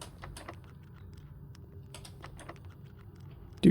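Lock being picked with a lockpick in the video game Blue Prince: a sparse series of small metallic clicks and ticks, fairly close and moderately quiet, ending with a louder thump.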